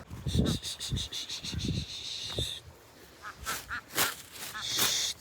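Ducks on an open farm, with short nasal quacks in uneven bursts up close, mixed with steady high insect chirping in the background.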